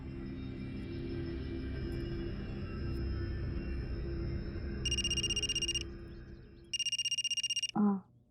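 Two bursts of a phone's electronic ring trill out over a low background hum, each lasting about a second, followed by a short thump.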